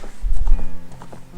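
Horse hooves galloping in the Nintendo 64 game The Legend of Zelda: Ocarina of Time, a short run of muffled, rhythmic thuds close up, mixed with game sounds.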